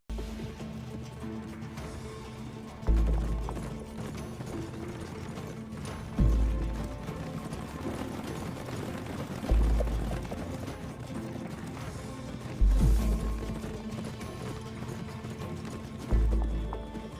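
A horse gallops through a forest, its hoofbeats coming in regular heavy clip-clop bursts about every three seconds over a steady dramatic background bed, with no talk.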